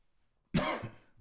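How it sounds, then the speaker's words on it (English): A single sharp cough from breathing in vapors bursts out after a moment of quiet, close and loud, trailing off into a short rough exhale. "These vapors in my nose that make you cough."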